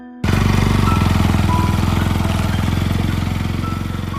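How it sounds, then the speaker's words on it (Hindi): A motorcycle engine roars in after a brief quiet start, staying loud and steady with a rapid pulsing rumble that slowly fades a little over several seconds. "दूर से बाइक की आवाज आई।"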